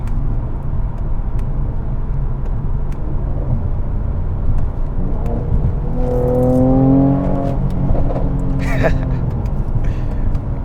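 Mercedes C43 AMG with the AMG Performance Exhaust accelerating from inside the cabin, a steady engine drone that swells into a rising rev in the middle, with someone talking over it.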